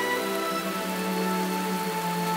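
Heavy rain in the Kalahari falling steadily in a dense, even hiss, with no voices.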